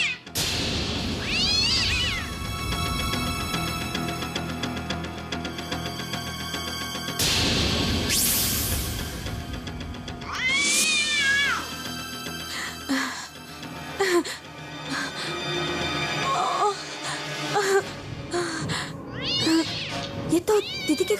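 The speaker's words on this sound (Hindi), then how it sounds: "ये बिल्ली के रोने की आवाज इतनी रात को कहाँ से आ रही है?" A cat cries and meows at night in long, wailing, drawn-out calls that repeat, fairly loud and close, over dramatic background music.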